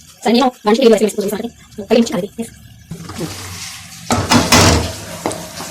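Green chillies stirred into chicken and arvi frying in a pot: a burst of sizzling and scraping stirs follows a stretch of talking, with the spoon clattering near the end.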